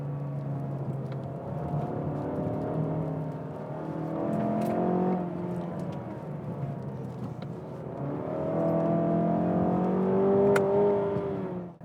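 A 2022 Mazda 6 Skyactiv-G 194 naturally aspirated engine revs up strongly, pitch climbing as it accelerates, dips briefly during a gear change, then pulls hard again, loud and close.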